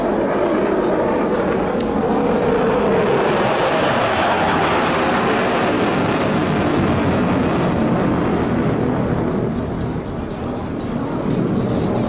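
A Eurofighter Typhoon jet flies a display at the Jesolo air show over the sea, its engines a loud, continuous broadband roar that swells and shifts as it pulls into a turn and half loop.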